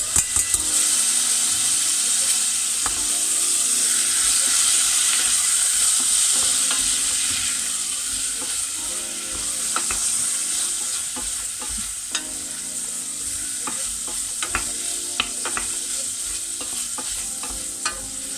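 Carrots and shallots sizzle steadily as they fry in a pot and are stirred, with scraping strokes and crackling pops running throughout at a close, even level.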